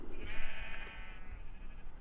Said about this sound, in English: So this is my little sheep jail.